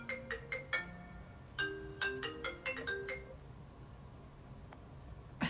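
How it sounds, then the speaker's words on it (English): A phone ringtone for an incoming call plays a short, bright melodic pattern of repeated electronic notes, fairly quiet and alone with no talking. "Sorry, I got a phone call."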